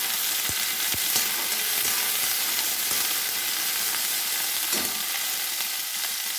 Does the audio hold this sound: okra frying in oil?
yes